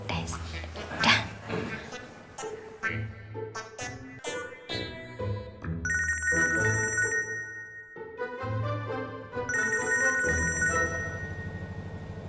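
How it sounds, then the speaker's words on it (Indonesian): A telephone rings on an outgoing call, a repeating electronic tone pattern heard over a busy indoor background with people talking. "Ya mau telepon Mas Randy dulu"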